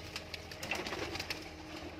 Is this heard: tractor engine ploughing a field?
no